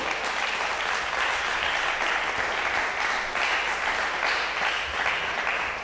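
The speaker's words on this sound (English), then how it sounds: "A round of applause for Paul." A crowd claps loudly and steadily for several seconds. The applause is dense and sustained, with no clear voices above it.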